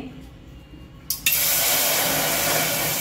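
A cup of water is poured into a pot on a gas stove, starting with a brief clatter and then becoming a steady, close, full rushing splash that lasts to the end.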